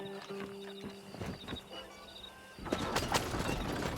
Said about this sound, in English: Aw, horse-drawn carriages.